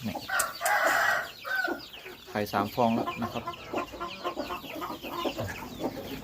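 Young laying hens of a fighting-cock bloodline cluck and call in a farm coop, with someone talking over and between the bird sounds at close range.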